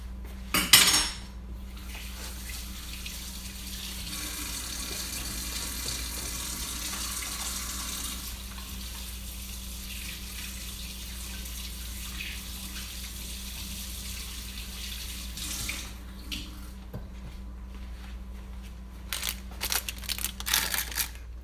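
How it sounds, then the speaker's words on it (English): Hands rinsed under a running kitchen sink tap during stuffed cabbage cooking, a steady close hiss of flowing water with a clatter of dishes at the start and soft handling noises near the end. "Let me wash my hands."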